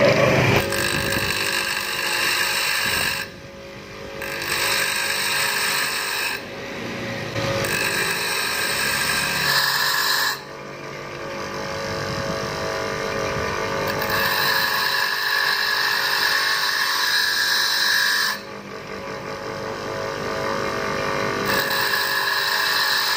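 Harsh, high-pitched grinding of a bench grinder sharpening a metal drill bit, running continuously with brief pauses and returns over a motor hum.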